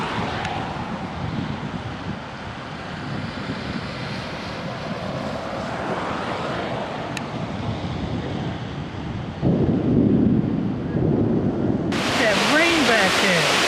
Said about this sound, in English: The rain back there is blowing